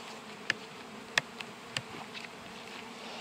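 Honeybees buzz around an opened hive during an alcohol wash check on untreated colonies, a soft steady hum with a few sharp close taps and clicks of handling equipment.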